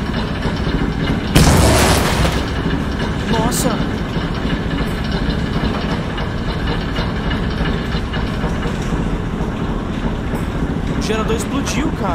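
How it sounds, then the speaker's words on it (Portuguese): A generator blows up in the video game The Alien Cube, a loud broadband boom about a second and a half in, followed by a steady low engine-like rumble and hum. "Explodiu o gerador, mano."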